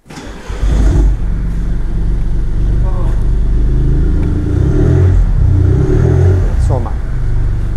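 A Jaguar F-Type R sports car engine runs loudly throughout, with a low steady idle rumble and a couple of brief revs rising in pitch, while voices talk over it.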